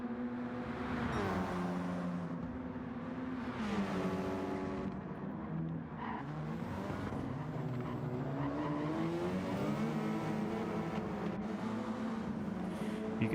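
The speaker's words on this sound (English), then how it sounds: "You could actually hear the wheel spin in the Mazda there." Mazda race car in a GTRC GR4 drivetrain finale race rasps through a corner, its engine note dipping and climbing with wheelspin on the exit while other cars drone nearby; the sound is faint and distant throughout.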